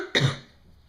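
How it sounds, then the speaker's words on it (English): A single close cough with a rough throat-clearing edge, abrupt and loud at first and then trailing off quickly, heard alone without speech. "I've been coughing a lot more, and I know it's not allergies, and I know it's not me getting sick."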